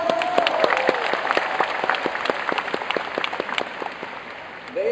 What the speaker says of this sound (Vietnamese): chúng ta hãy dành một tràng pháo tay thật lớn để dành tặng cho những anh chị đang phải ngồi bên ngoài